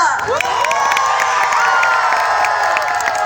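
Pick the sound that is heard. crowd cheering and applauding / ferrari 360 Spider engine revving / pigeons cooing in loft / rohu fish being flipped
crowd cheering and applauding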